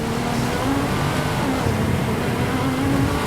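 A Ferrari accelerating off-road, its engine a loud continuous drone with rising pitch under steady rumble and road noise, sustained throughout with no speech.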